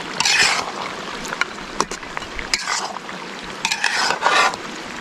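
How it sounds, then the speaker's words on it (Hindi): White chicken karahi being stirred in a pan outdoors, with a spoon scraping and clinking against the metal in uneven bursts, moderately loud and close, with no talking. "मिक्स कर लेते हैं।"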